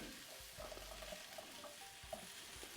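Half an onion from a backyard garden goes into a ceramic pan and sizzles at low volume, a steady, soft hiss with a few faint pops.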